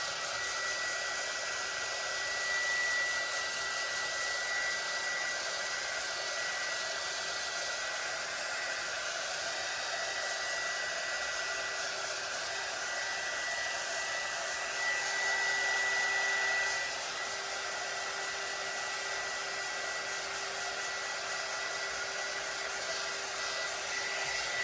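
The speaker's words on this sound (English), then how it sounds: "let me go to the back to help it along with my heat gun" A heat gun blows continuously to dry gray paint on a rustic geode tumbler, a loud, steady airy roar with a faint whine that holds for the whole stretch, no voices.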